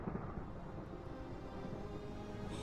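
Deep, continuous rumbling of a thunderstorm inside a video game, a steady low roll filling the whole stretch with no clear cracks, fairly loud and on its own without talk.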